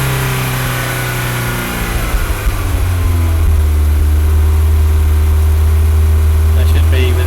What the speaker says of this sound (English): While it's sitting at idle